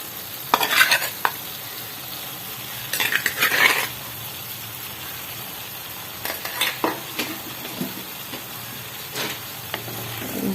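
Sardines frying in a pan for curry, a low steady sizzle with a few bursts of spoon stirring and scraping against the pan, close by, with quiet gaps between the stirs and no talking.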